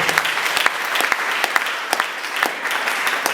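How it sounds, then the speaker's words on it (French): An indoor audience at a training event applauds a newly named president, steady dense clapping close by with no voices over it. "Est-ce qu'on peut applaudir pour le nouveau président de l'IJPEC?"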